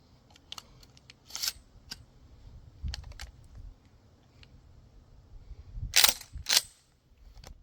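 Shells being loaded one after another into a shotgun outdoors, giving scattered metallic clicks and clacks with a couple of louder sharp bursts near the end, and no talking.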